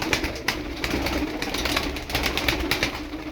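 Turkish tumbler pigeons coo softly and repeatedly amid a rustling flock, heard close against a low, steady background hum.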